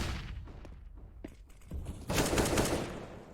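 AK rifle fire from a Counter-Strike: Global Offensive esports match rattles out in sharp automatic bursts, with a denser, louder volley toward the end.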